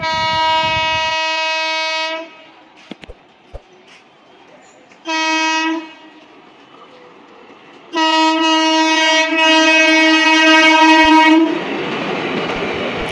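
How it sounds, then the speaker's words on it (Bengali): Sahebganj Express passing behind a WAP5 electric locomotive, with long loud horn blasts that stop and restart, a short quiet gap, and then a rush of train noise near the end. "Sahebganj express upside."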